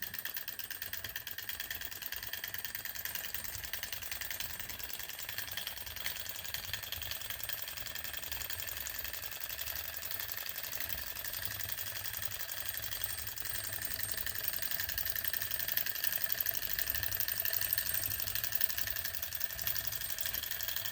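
An upgraded Enjomor Stirling engine runs steadily with a fast, even mechanical ticking whir. It sounds close and continuous, grows slightly louder toward the end, and no one talks.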